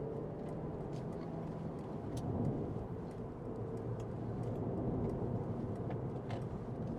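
Mercedes-Benz C350e plug-in hybrid car accelerating hard, a steady broad road and engine rumble with wind noise building slightly, heard from inside the cabin at moderate level with no talk.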